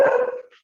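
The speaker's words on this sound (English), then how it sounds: "Somebody needs to stop the dog." A single loud dog bark rings out close by, fading quickly into silence, with no talk over it.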